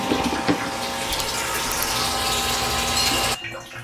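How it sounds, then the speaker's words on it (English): Water gushes steadily through a small hose from a submersible pump on a mobile detailing water tank setup, a loud close rushing flow that cuts off abruptly near the end. "Get yourself a sub pump, along with a small hose, or even connect your garden hose to it directly, and you will have free flowing water"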